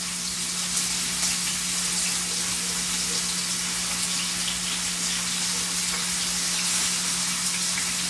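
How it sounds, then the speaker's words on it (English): Seasoned meat pieces with garlic and spices sizzle steadily in a skillet for jambalaya, a constant bright crackling hiss over a low steady hum, with no talking. "I'm going to finish getting all these put into the skillet and frying up."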